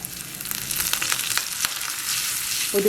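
Hot oil sizzles and crackles sharply as a chilli and curry leaves are added for tempering, a close, steady fizz with brief pops.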